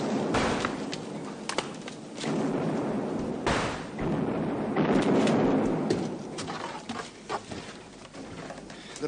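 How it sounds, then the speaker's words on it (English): Artillery bombardment during a siege, heard as several distant, muffled booming impacts and bursts scattered over a rumbling background, moderately faint with no speech. "It is to be expected that the enemy would increase his bombardment as news reaches him of our state."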